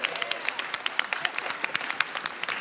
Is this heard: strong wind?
no